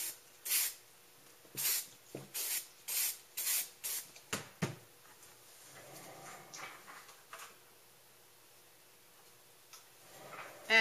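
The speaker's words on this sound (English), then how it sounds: "take some plain spray adhesive, and I'm going to put these up here a little bit on my paper" Spray adhesive hisses from a can in a string of short, quick bursts onto paper, followed by quieter rustling and a final spritz.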